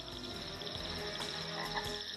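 Frogs croak in a dense, continuous chorus, steady and moderately loud with no voices, captured on a field recording trip for film sound effects.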